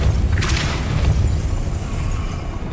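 A Depulso spell cast in Hogwarts Legacy gameplay: a single sharp whooshing burst over a deep rumbling boom, loud and close, fading into a low lingering rumble with no talk.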